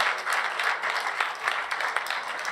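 An audience at the close of an eTwinning teachers' workshop on project-based learning bursts into applause: a dense, continuous wash of many hands clapping, steady and fairly loud for the whole stretch, with a voice faintly underneath.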